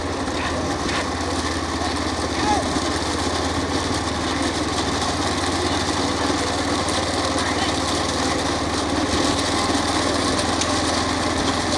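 Small motorbike engine running steadily throughout at a rural bullock cart race in Thoothukudi district, a continuous buzzing drone with faint crowd and commentary mixed underneath.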